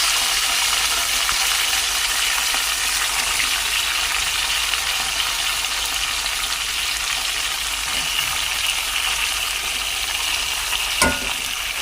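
Finely chopped potatoes frying in a spiced oil tempering over a slow flame, a continuous, even sizzle that stays close throughout, with one brief clink near the end.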